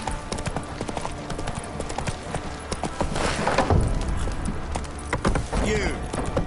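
Roach, the horse in The Witcher 3: Wild Hunt, clip-clops along in a steady, close hoofbeat rhythm that grows louder midway, with game voices talking over the hooves.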